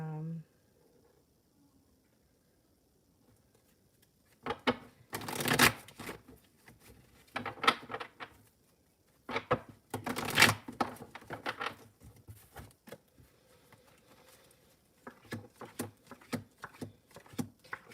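Tarot cards are shuffled by hand in close, papery bursts of riffling and sliding, coming in irregular bouts after a quiet start.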